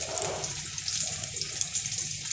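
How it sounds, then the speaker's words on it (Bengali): Coriander leaves are washed under a running kitchen tap, giving a close, steady hiss and splash of water throughout the short stretch with no talk. "এখনই ধনেপাতা ধুয়ে ডালের মধ্যে দিয়ে দেবো।"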